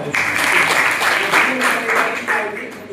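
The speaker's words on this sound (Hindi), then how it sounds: "ताली बजाइएगा।" A college audience applauds steadily at an anti-drug pledge campaign event, a dense, fairly loud wash of clapping that holds for about three seconds before tapering slightly at the end.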